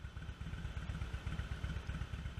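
A motorcycle idles nearby on a town street, its engine putting out a steady low rhythmic purr with regular pulsing beats and no voices over it.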